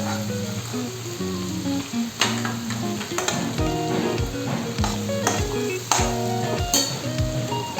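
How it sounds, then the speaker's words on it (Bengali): Potato pieces fry in spiced oil in a pan, giving a steady loud sizzle throughout, with repeated knocks and scrapes of a utensil against the pan, close up and without talk. "আলুর পিসগুলোকে খুব ভালো করে 2 মিনিটের মতো ভেজে নেব।"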